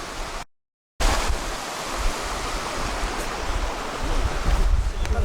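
A mountain river rushes in a steady, dense wash of flowing water that fills the clip, broken only by a brief silent dropout near the start.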